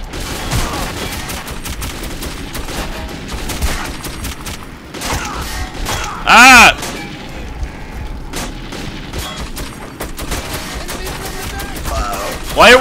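Heavy gunfire in the video game Metro 2033, repeated bursts and scattered shots with loud booms over a busy game soundtrack, close and intense, with a voice talking at times.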